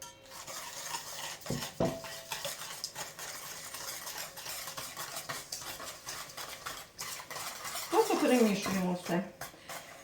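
A spoon stirs cake batter made with eggs and sugar in a bowl for a honey layer cake, with scraping and clinking strokes throughout and a couple of sharper knocks, while a voice speaks intermittently.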